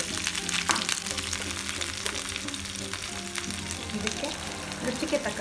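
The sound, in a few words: mustard seeds and curry leaves sizzling in hot oil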